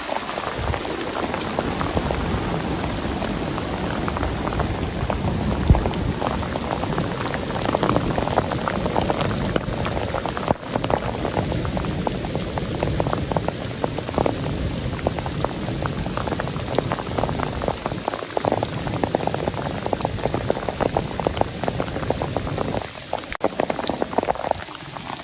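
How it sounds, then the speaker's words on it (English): Heavy rain pounds steadily on tent fabric from inside, a loud, dense, continuous hiss and patter with no break, close all around and no voices. "Rain and thunder pound the fabric just inches"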